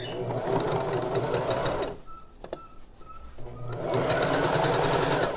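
A sewing machine stitches a fabric face mask in quick, steady bursts, pausing briefly midway before resuming its even mechanical whir, close and clear.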